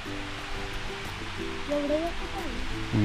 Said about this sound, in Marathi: धबधब्याचा आवाज इकडे येत आहे